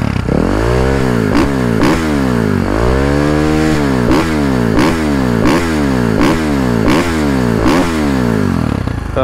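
Supermoto motorcycle engine running close by and revved again and again, each rev rising and falling in a steady rhythm over a loud, rough idle, with no talking.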